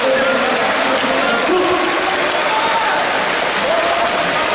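Crowd applause fills a volleyball arena during a Hyundai Capital Skywalkers versus Samsung Fire pro league match, loud and steady throughout with a broad roar of many hands and faint whistling tones riding over it.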